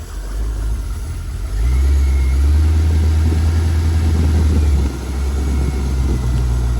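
An LS1 engine in a C4 Corvette idles up close with a deep, steady rumble. It rises in a brief swell of revs, then settles back to a smooth idle, with no voices.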